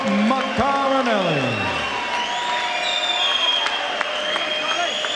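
Boxing arena crowd cheering and applauding after a cruiserweight title fight in Swansea, a steady roar with whoops and rising tones sustained throughout, with a voice over it.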